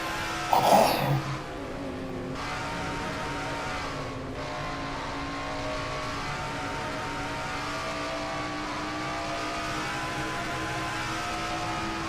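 Onboard engine of the number 9 Ford stock car racing at Rockingham, a loud steady high-revving drone with harmonic whine and a brief louder burst near the start, no talking heard.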